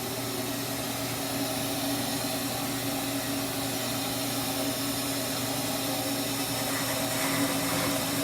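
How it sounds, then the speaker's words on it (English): A power saw cuts slowly through half-inch-thick metal, producing a steady, droning motor whine with a grinding undertone that holds level throughout. "So we're going to cut fairly slow because there's a lot of metal to cut through this."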